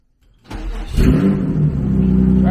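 A turbocharged Honda S2000 coming out of hibernation cranks briefly and then fires, its engine catching into a loud, close, rough idle that holds steady to the end.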